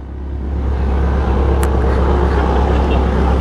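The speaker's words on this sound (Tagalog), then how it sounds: "naka-akra na exhaust oh." A Honda CB650R street motorcycle fitted with an Akrapovic exhaust rumbles nearby with a loud, steady engine drone over traffic-like background noise.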